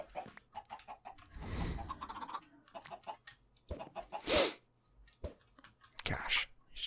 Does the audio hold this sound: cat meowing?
no